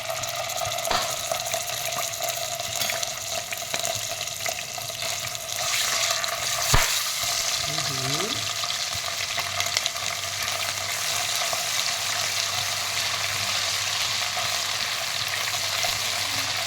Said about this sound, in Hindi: देखिए मैं अदरक लहसुन पेस्ट डाल रही हूँ इसमें।